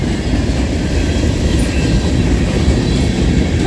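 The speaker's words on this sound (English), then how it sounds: "I'm getting my next train here." A freight train led by NS 6311 rolls past close by in Creighton, Pennsylvania, a loud continuous rumble of wheels on rails with a faint rhythmic clatter.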